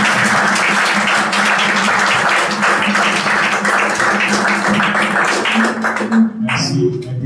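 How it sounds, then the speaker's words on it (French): A church congregation at a Sunday service applauds together, steady dense clapping filling the room for several seconds before it thins out and a voice begins speaking near the end. "nous demandons à l'Assemblée d'applaudir cette réunion."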